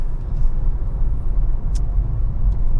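A Ford Mondeo with a 136 bhp Zetec engine drives along, giving a steady low engine rumble with road noise that holds even from start to finish, with no talk over it.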